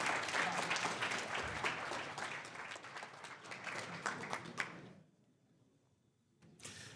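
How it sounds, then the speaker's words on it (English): An awards-show audience at a flight simulation event claps loudly for several seconds, then the applause drops away into near silence before a brief burst returns. "Again, a big applause to Flight Temper."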